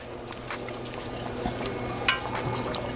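Marinara pasta sauce poured from a pot onto cooked meat for baked ziti, a steady wet glugging and splashing stream that stays close and moderately quiet throughout.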